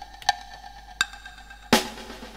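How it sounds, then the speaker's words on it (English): Alesis HR16 drum machine samples hit a few times with delay and reverb: two light sharp hits with ringing tails, then a louder crashing hit that decays in a reverberant wash, with no talking. "So I got the Alesis HR16 drums."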